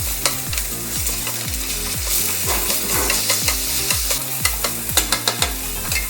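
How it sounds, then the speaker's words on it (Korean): Garlic and meat stir-frying in a pan for Malaysian char kway teow, a steady close sizzle with regular rhythmic thumps and scrapes of stirring and tossing, no voices. "그리고 마늘이 어느 정도 볶아졌으면 고기를 넣고 같이 볶아줍니다."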